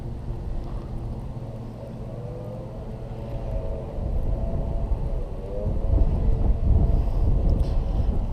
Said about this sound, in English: The wind blowing right back at me again.